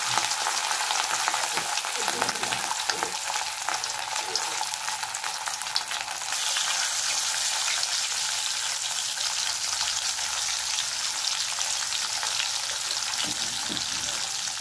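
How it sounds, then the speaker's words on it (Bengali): Hilsa fish frying lightly in oil crackles with a constant, dense sizzle that stays close and even from start to finish, with no talking. "এবার আমি এক এক করে ইলিশ মাছগুলোকে ভেজে নেব। হালকা করে ভাজবো।"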